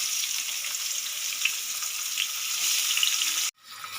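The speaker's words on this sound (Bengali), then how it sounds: "পেঁয়াজটা একটু আমি ব্রাউন কালার করে ভেজে নেব" Chopped onion fries in oil tempered with nigella seeds and bay leaves, giving a loud, continuous close-up sizzle that cuts off abruptly near the end.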